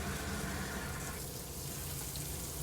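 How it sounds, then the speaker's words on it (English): Water runs steadily from a tap inside an RV, a close, even hiss and splash with no break. "we'll run the water and just check to make sure that we do actually have hot water"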